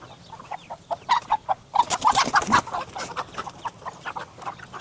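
A chicken on a pasture-raised farm clucks and squawks in a rapid run of loud, agitated calls as it is picked up, with brief rustling between bursts.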